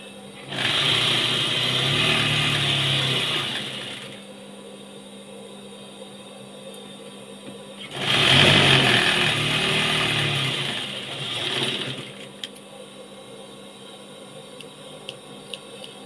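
Sewing machine stitching a nightie, running in two steady bursts of several seconds each, separated by a quiet pause, close and fairly loud with no talk over it.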